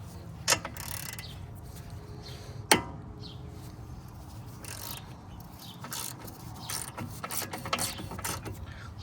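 A ratchet wrench clicks steadily while loosening a 16 mm bolt on an Audi Q5 upper control arm, with sharp metallic pawl ticks and a few louder knocks, close up in a garage-like space.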